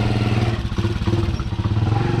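Small motorized tricycle taxi engine in the Philippines, a steady close, loud mid-pitched putter with rattling clatter running throughout, no voices.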